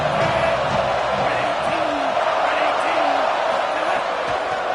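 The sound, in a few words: stadium crowd cheering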